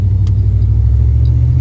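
Climate control fan running with the AC on inside a 1990 Chevrolet K1500 Silverado 4x4 pickup, a steady, loud low rumble and whoosh filling the cab while the truck drives, with no voices.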